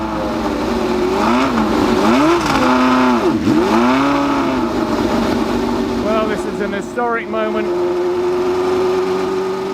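A 1969 McLaren M9A race car engine rumbles steadily close by, its pitch rising and dipping through several revs before holding a sustained drone, with someone talking over it throughout.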